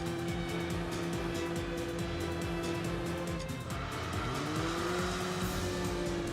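Race cars roar through a lap in Enthusia Professional Racing, a steady loud engine drone with shifting pitch as gears change mid-run, tire squeal and rumble layered over it, continuous without pause.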